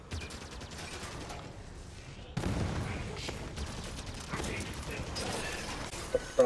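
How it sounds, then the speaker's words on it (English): Gunfire in Halo 5 co-op play, with continuous rattling automatic bursts and mechanical clatter mixed under game effects, moderately loud and steady throughout. "Quickly, shoot it."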